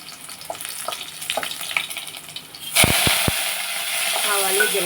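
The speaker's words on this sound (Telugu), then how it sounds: "ఇప్పుడు మనం చారు తాలింపు వేసుకుందాం." Rasam tempering is dropped into hot oil with mustard seeds and cumin. After a quieter stretch of light clatter, a loud, sudden sizzle bursts up and keeps hissing steadily close by.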